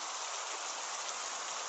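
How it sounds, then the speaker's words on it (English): Gentle rain falling steadily as a continuous, even hiss of drops on a surface, close and moderately soft with no other sounds. "a gentle rain began to fall"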